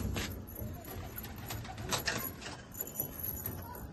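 Pigeon cooing softly and fluttering as it is let go by its keeper, among a fancy pigeon collection; faint low coos and rustling continue steadily over a busy background with no talk.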